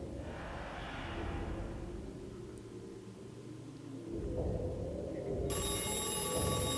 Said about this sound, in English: The sudden ringing of the phone made me jump in surprise.